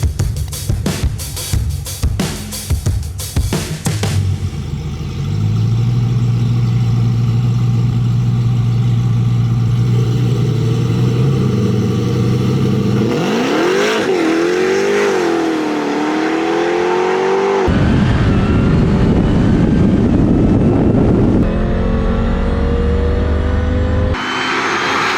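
Engines of an 1100HP Demonhawk and a 730HP tuned Ferrari FF in a drag race, loud and close: clattering revs at first, then a sustained roar that rises in pitch through gear changes and swells to a final full-throttle blast.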